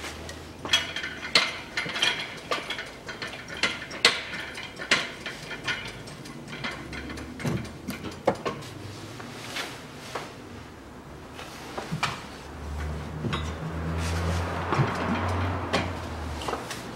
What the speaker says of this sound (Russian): И откручиваю болты.